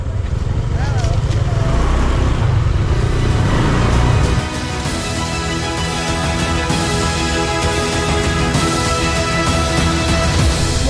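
A vehicle drives through a huge puddle on a potholed road on Nusa Penida, Bali: a loud, steady engine-and-road rumble with broad splashing hiss that drops in level partway through as the wheels leave the water.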